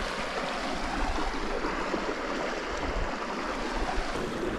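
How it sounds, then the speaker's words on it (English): A river pours over a weir in a Scottish glen, a steady broadband rush of turbulent water, loud and close, continuing without a break and with no voices. "The river's quite deep."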